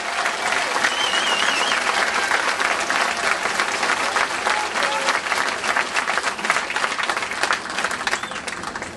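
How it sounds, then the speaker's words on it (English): A crowd at a Tea Party rally with Mayor Guinta gives sustained, dense applause for a state senator. The clapping stays loud and even throughout, with faint voices mixed in. "Give him a big round of applause for standing up for all of"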